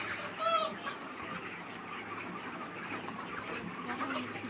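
Chickens on a chicken farm cluck and murmur in a steady crowded chorus, with one brief louder squawk near the start standing out above the continuous flock noise.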